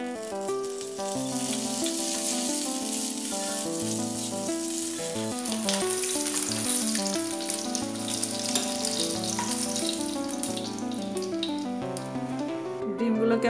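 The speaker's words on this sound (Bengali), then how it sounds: "ডিমগুলোকে আমি ভেজে নিলাম, খুব বেশি ভাজবো না" Eggs fry in about two tablespoons of oil in a pan, a continuous bright sizzle and crackle that runs throughout with occasional stirring rattles; light voice sounds come through faintly at times.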